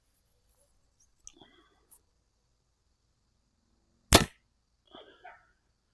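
Arrows shot from a bow at an outdoor archery target during archery season, a few soft clicks and taps followed by one sharp loud thwack and fainter rustling afterward.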